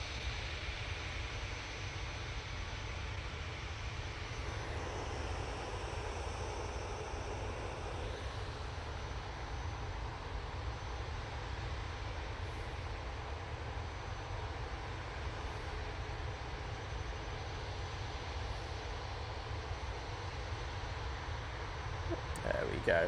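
Airbus A320-200 airliner arriving at Manchester Airport from London, a steady, fairly distant jet engine roar with low rumble held throughout, a voice talking briefly over it.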